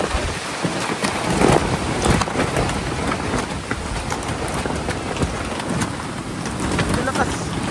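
Strong wind roaring across a campsite and buffeting the tents, a loud, continuous blustery rush that never lets up.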